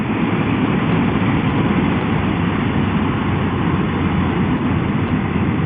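Old motorbike engines at a vintage bike rally outside a cafe, a continuous low, rough idling rumble heard close and steady with no pauses or speech.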